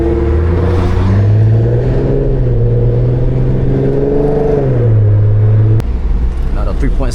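A car accelerates hard through first gear on a night drive, engine note rising loud and steady, then dipping sharply as it shifts into second near the end, with a brief break in the drone.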